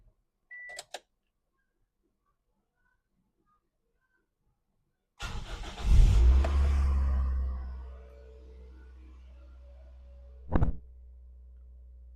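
A Toyota Vios Gen 1 engine cranks briefly and catches, settling into a steady idle that fades to a low hum, with a couple of sharp clicks before and a clunk near the end.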